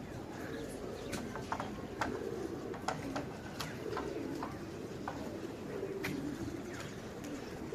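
A large flock of pigeons, high and low flyers, coos in soft overlapping murmurs, with sharp wing flaps and clicks scattered through the steady background.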